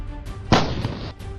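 A single loud blast from an ATAGS indigenous artillery gun, the Indian-built towed howitzer, firing once with a sharp onset and a decaying rumble that fades over about half a second against steady background noise.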